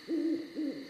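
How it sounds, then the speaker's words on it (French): Two soft, tonal owl hoots sound in the evening, each a smooth low call lasting about a quarter second, evenly spaced against a faint steady background hiss. "C'est peut-être un hibou?"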